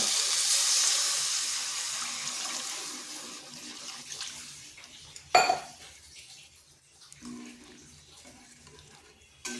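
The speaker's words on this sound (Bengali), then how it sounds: "এরপর এখানে দিয়ে দিচ্ছি জল" Water pours into a cooking pan with a splashing rush that fades over a few seconds, followed by a sharp metallic clank of utensils and quieter kitchen handling.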